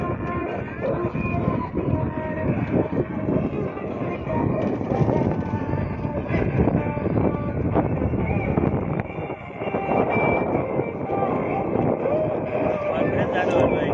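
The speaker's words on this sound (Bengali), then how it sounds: "আজকে বাতাস আছে অনেক" Strong outdoor wind by a river busy with boats roars and buffets the microphone loudly and continuously, with a voice faintly underneath.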